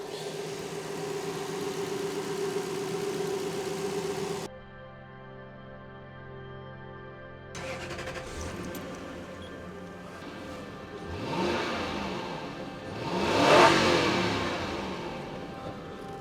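A Toyota Celsior, the JDM first-generation Lexus, with a 23-year-old engine on solid mounts idles steadily, cuts out, then restarts and revs up in two rising bursts, the second loudest, with no talking.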